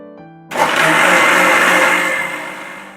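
A kitchen mixer blends mango lassi with sugar, saffron and cold water, starting abruptly after a brief quiet moment and then whirring loudly and steadily, easing slightly toward the end.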